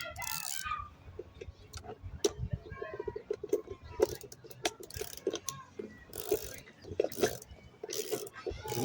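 A ratchet clicks in short bursts while bolts and nylon nuts are tightened on a 2006 Toyota Corolla chassis during an overhaul, the sharp mechanical ticks close by and repeating irregularly.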